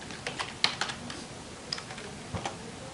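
Keys are struck on a computer keyboard in a quick, uneven run of close, light clicks spread across a few seconds, with one stronger tap early on.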